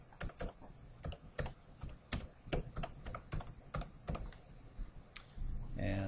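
Rapid keystrokes on a computer keyboard, typed in quick irregular bursts of close, crisp clicks, with a short pause near the end and a faint rustle as it stops.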